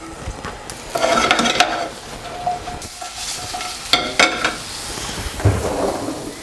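Mushrooms and garlic hit a hot pan, crackling and sizzling with bursts of spitting and stirring scrapes, close and fairly loud, without talking.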